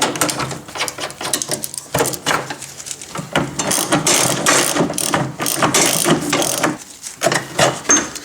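A hand ratchet loosens the J bolts holding the fuel tank on a Kawasaki FC420V engine, giving loud, close bursts of rapid clicking, with short pauses between strokes and a few metallic knocks.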